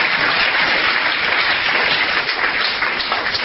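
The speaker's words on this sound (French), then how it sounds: "Give the Lord a clap offering." A church congregation in Zürich claps and applauds together in a steady, dense wash of hand claps, continuous and fairly loud, with no voices over it.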